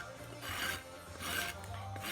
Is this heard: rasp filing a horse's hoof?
yes